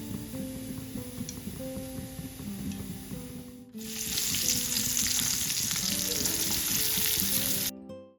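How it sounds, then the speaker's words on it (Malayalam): Onion, green chilli and curry leaves frying in oil, a steady close sizzle that jumps louder as more goes into the pan partway through, with faint clinks and a soft background hum. "ഉള്ളിയും പച്ചമുളകും കറിവേപ്പിലൊക്കെ ഇട്ട് അങ്ങനെ എണ്ണയിൽ വാട്ടിയിട്ടുണ്ടായിരുന്നു"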